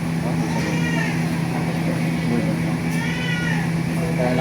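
Cat meowing during an unlimited chicken wings meal, drawn-out meows rising and falling twice over a loud, constant hum and background chatter.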